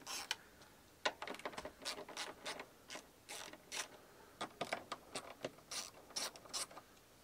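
Ratchet wrench clicking in bursts as three 10mm nuts are loosened near the distributor cap of a 1994 Ford Probe GT 2.5 V6, quick close-up pawl ticks in irregular runs, no talking.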